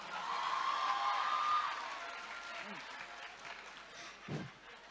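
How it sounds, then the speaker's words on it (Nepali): An audience at a welcome program applauds after a performance, a dense burst of clapping that swells and then fades over a few seconds, with voices faintly audible as it dies down. "यस्तो राम्रो पर्फर्मेन्सको लागि एकचोटि जोरदार तालीको धमाल।"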